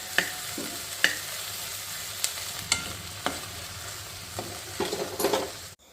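Crushed ginger and garlic sauté in hot oil for Kerala vada koottu curry, a close, steady sizzle punctuated by regular spoon scrapes against the pan, ending abruptly, no speech.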